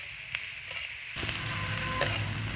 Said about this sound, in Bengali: এইভাবে অনবরত নাড়াচাড়া করে পেঁয়াজ ভেজে নেব একটু লাল করে